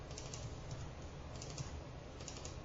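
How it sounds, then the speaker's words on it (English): A computer keyboard and mouse are used for copy and paste while writing iOS code in Xcode, giving faint, close clusters of quick clicks and key taps in a quiet room. "I'm just double-clicking and copying and pasting"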